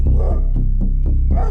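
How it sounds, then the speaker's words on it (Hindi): Village dogs bark at a jackal in an animated Panchatantra tale, several loud, close barks in quick irregular bursts with voiced, howl-like harmonics. "कुत्ते सियार के पीछे भागते हुए चिल्लाए"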